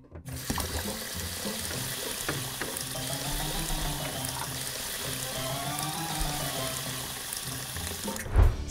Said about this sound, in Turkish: Şimdi yüzünü yıka Barbie.